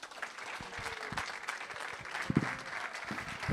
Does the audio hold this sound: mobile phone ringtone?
no